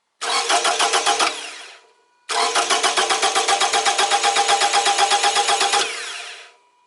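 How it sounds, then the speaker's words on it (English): A car engine is cranked by its starter during a compression test, two long bursts of steady, rapid rhythmic cranking close by, separated by a short pause, without the engine catching. "Okay, and I go to start engine."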